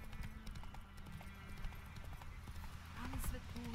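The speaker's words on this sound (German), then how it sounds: "Doppelt Leertaste heißt schnell reiten, galoppieren." Horse galloping in The Witcher 3 video game, with rhythmic clip-clop hoofbeats and a brief whinny under continuous game sound and a speaking voice.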